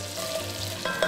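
Onions frying in melted butter in a pan, a dense steady sizzle close by with a small burst of crackle near the end, no talking.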